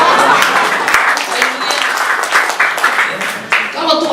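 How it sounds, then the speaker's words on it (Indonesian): Church congregation applauding during a Sunday worship service, a dense, sustained wash of clapping with scattered cheers and voices mixed in, close and fairly loud throughout. "Tepuk tangan dong buat Bapak Ibu"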